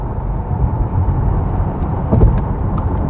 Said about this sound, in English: So it's just basically hear some tire noise and hear a little bit of wind noise, but really even the wind noise isn't that much